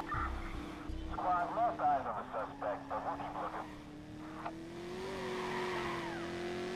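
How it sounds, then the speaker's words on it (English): Tires squeal as a car drifts and swings its rear out in the game Watch Dogs, the engine droning steadily underneath while someone talks over the skidding. "This car though, it loves drifting, but it always swings out at the back."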